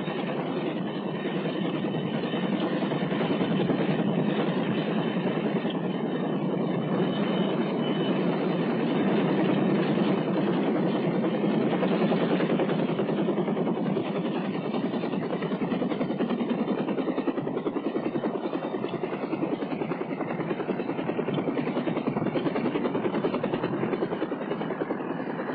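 Piasecki H-21C Shawnee tandem-rotor troop-carrying helicopters of the US Army, 1963 era, flying with a continuous loud rumbling drone of engines and rotors that holds steady throughout, no voices.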